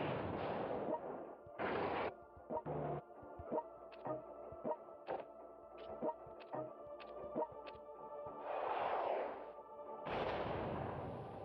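Artillery fire in the strategy game World Conqueror 3 comes as a string of sharp, evenly spaced booms and thuds, set between louder bursts of rushing blast noise, close and loud with no talk.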